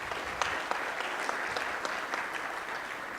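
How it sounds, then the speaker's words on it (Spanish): Warm applause from a conference audience welcoming a speaker at a tax law symposium, a steady, moderately loud crowd clapping with a few sharper individual claps standing out. "a quien recibimos con un caluroso aplauso."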